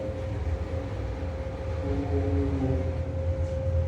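Bathroom exhaust fan running with a steady low hum and a faint buzzy rattle, constant and fairly close, with no talking.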